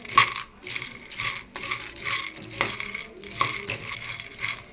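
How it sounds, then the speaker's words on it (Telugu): Pumpkin seeds dry roasting in a pan, with light clinking and rattling as the seeds are stirred and tossed against the metal in irregular bursts. "ముందుగా ప్యాన్ పెట్టుకొని అందులో పంకిన్ సీడ్స్ వేసుకొని లైట్గా ఫ్రై చేసుకోవాలి."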